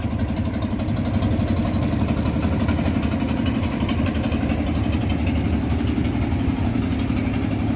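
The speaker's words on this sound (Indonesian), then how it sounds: "Terlihat kapal melintas di bawah jembatan Ampera." A steady, low boat engine rumble drones on continuously, loud and close, with no voices, as a boat passes under the Ampera Bridge on the Musi River in Palembang.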